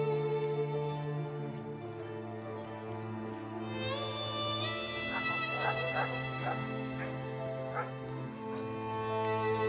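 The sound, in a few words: sled dogs barking and whimpering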